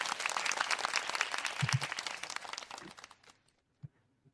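A burst of applause from a crowd, dense steady clapping that thins and fades out after about three seconds, followed by a couple of faint isolated knocks.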